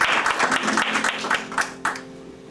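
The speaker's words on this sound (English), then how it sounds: "Let's give him a round of applause." An audience at a cowboy and western themed show rehearsal applauds, a short burst of clapping that fades out within a couple of seconds, close and fairly loud.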